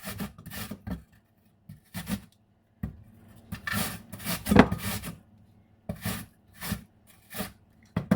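Carrot and apple rubbed against a hand grater for muffins, giving bursts of rough rasping strokes in an uneven rhythm with short pauses between, close and fairly quiet.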